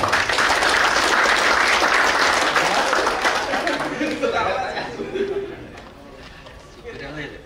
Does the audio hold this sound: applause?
yes